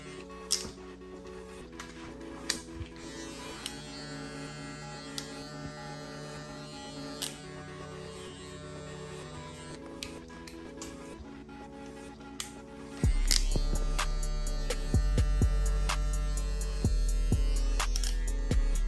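An electric hair clipper buzzing steadily during a high taper haircut on a client with locs, a constant motor drone that shifts pitch partway through and then grows louder and heavier.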